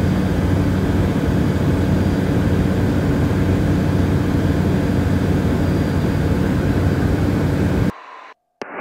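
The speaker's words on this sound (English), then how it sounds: "It was doing a 250 foot flyby over Clambetta." An Airbus A400M military transport aircraft making a 250-foot flyby gives a loud, steady roar of heavy propeller turbines overhead, holding constant for several seconds before cutting off abruptly.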